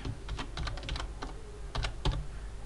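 Rapid clicking of keys on a computer keyboard while code is typed, irregular bursts of close keystrokes with short pauses between runs, no talking.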